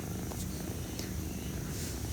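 A cat purrs in a close, continuous low rumble that stays even throughout.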